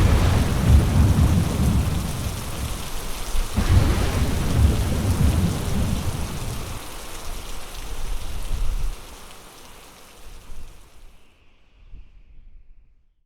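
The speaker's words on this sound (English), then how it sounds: "in a minute, the rain is going to come" Heavy rain with rumbling thunder, loud and steady with a sharp crack partway through, then easing to a quieter patter and distant rumbles before cutting to silence near the end; no voices.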